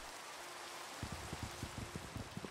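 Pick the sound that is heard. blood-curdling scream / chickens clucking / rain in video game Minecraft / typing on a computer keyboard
rain in video game Minecraft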